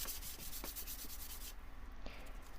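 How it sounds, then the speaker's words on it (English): Wooden chair being sanded by hand with 120 grit sandpaper, a steady run of close, scratchy back-and-forth strokes with no talking. "Sanding with 120 grit."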